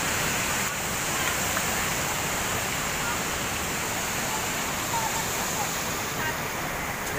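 Maranum Falls pours in a steady, broadband roar that fills the whole stretch at moderate loudness, a constant rushing wash of falling water close by.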